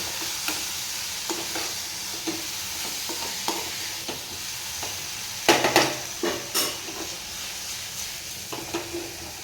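Small creek fish being gently stirred into spicy masala in a pan, with a soft steady sizzle and scattered scraping taps of the spoon, a few louder clatters in the middle; no talking.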